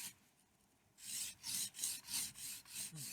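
A knife is drawn across a fine sharpening stone in five or six rhythmic, close rasping strokes after a quiet start, each stroke a distinct hissing scrape, with no talking.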